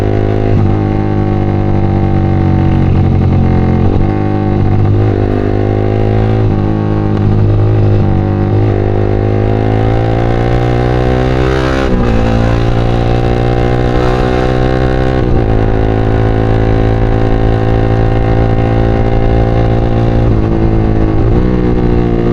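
A Yamaha R15 motorcycle runs at speed, its steady engine drone loud and close throughout with harmonics that rise and dip as the rider shifts and changes throttle, wind roaring over everything.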